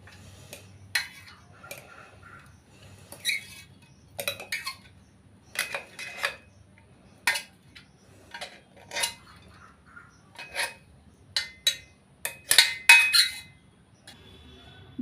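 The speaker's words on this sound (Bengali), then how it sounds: "এখন একটা প্লেটে ঢেলে নিচ্ছি।" Metal spoon scraping and clinking against a mixer grinder jar and plate while grainy ripe mango halwa is served, a series of sharp, close taps and chinks in irregular bursts with quiet pauses between.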